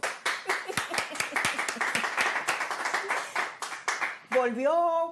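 A studio audience at a Spanish-language interview claps in a lively, uneven burst of individual hand claps, closely miked, before a voice starts speaking over the end.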